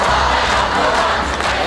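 A massive crowd cheers the Hawthorn Hawks football team in Tasmania during a 2008 premiership celebration: a dense, steady roar of many voices, loud and close, holding at a constant level for the whole stretch.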